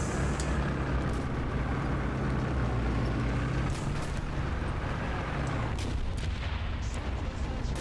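Tank under fire in War Thunder, a Chinese WZ122, with a constant heavy engine rumble and scattered sharp impacts and shots over it, steady and loud throughout.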